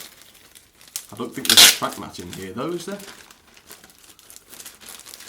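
A paper instruction and track-mat leaflet pack from a Hornby Santa Express train set crinkles and tears open in a loud burst of rustling, with talk before and after it.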